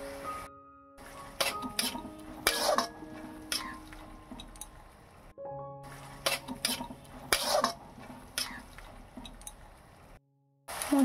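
Chopped tomato cooked down with spices in a pan, a utensil scraping and clinking against the metal in repeated stirring strokes with a faint sizzle underneath, close and fairly quiet.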